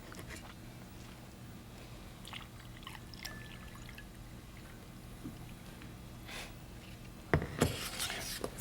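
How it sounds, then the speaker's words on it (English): Green water trickles from a bottle through a funnel, producing a faint, quiet pour with occasional soft gurgles and a louder splash near the end. "pour this green water into the funnel so it goes into the bottle"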